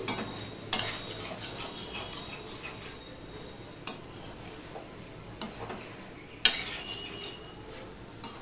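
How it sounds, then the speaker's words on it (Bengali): Drumstick vegetables with sugar are stirred in a pan over a medium gas flame, a soft low sizzle under intermittent spoon scrapes and clinks against the pan, quiet and close with no talk. "গ্যাসের ফ্লেমটা মিডিয়ামে দিয়ে আমি সম্পূর্ণ সবজির সাথে চিনিটা মিশিয়ে দিচ্ছি"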